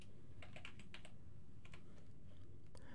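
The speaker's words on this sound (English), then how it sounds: "I'm going to type the word warp" Quiet keystrokes on a computer keyboard while entering a word in Photoshop, several close, light taps in short clusters with no voices.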